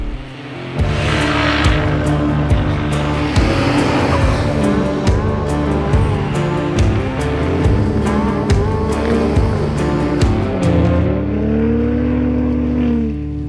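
A Hennessey VelociRaptor 600 truck does donuts on a deep-snow skid pad near Steamboat Springs, Colorado; its engine revs loudly and continuously, rising and falling in pitch as it circles close by, with no talk.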